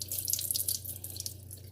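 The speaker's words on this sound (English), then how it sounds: "we're going to empty the water from the bedroom from the stains we just cleaned up" Dirty water from a Hoover PowerDash carpet cleaner tank pours out after cleaning bedroom carpet stains, a steady splashing hiss running throughout, fairly loud and close, over a low electrical hum with no voices.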